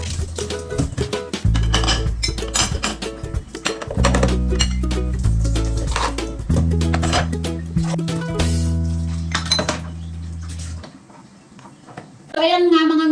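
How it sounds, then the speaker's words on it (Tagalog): Dishes clink and clatter steadily as pots and pans are washed, with running water hum and a voice talking over the clatter. "Hugasan ko muna lahat ng hugasin kasi ang daming hugasin."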